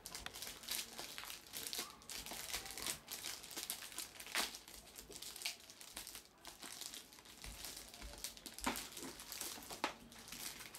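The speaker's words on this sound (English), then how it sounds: "let's remove it out of this cover" Plastic cover being pulled off an Alienware TactX keyboard during unboxing, a continuous faint crinkling and rustling of thin plastic with sharper crackles scattered throughout, heard alone without talk.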